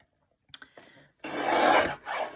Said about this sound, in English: on the 5 1/2 inch edge, cut 2 strips 1 3/4 of an inch wide